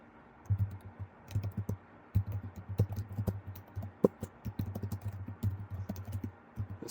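Steady typing on a computer keyboard while entering a blog summary, a close run of quick key clicks with a few louder strikes, no talking.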